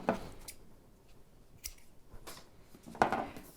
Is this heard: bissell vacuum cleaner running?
no